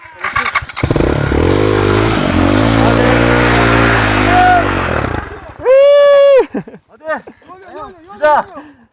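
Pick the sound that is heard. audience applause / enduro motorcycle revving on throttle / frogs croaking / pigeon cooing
enduro motorcycle revving on throttle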